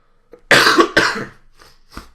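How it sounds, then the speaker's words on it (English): Two harsh coughs in quick succession, close and loud, followed by a couple of softer breathy throat sounds. "Stuffed up, got a cough"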